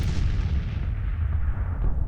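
Rumbling cannon fire from 14-pounder James guns on a Civil War battlefield in the Grand Tactician strategy game, a deep sustained boom with a rolling low-end decay throughout.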